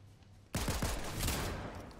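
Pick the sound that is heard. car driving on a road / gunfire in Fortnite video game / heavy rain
gunfire in Fortnite video game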